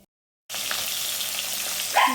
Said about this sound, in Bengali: দিয়ে দিলাম আলু আর টমেটো কুচি। এবার এটা ভালো করে ভাজতে হবে।